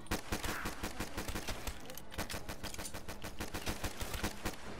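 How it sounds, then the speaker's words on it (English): Rapid gunfire in a zombie video game: quick, evenly spaced shots come in dense bursts, loud and close, with one brief pause partway through. "Shoot him with your pistol, I guess."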